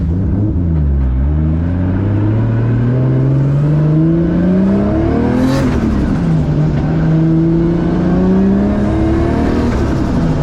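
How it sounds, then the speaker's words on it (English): A Nissan 240SX's drivetrain and differential whine loudly from inside the cabin, the pitch rising and falling as it accelerates and shifts, with a steady turbocharged engine drone underneath. "There's so much drivetrain noise in this car"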